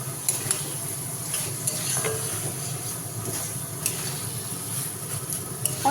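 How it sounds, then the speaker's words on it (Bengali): Mustard oil drizzled over cooked Bengali poppy seed paste, giving a steady, close, loud sizzling hiss with faint scattered crackles throughout and no talk. "এবার জাস্ট একটু ওপর থেকে তেল ছড়িয়ে দিলাম"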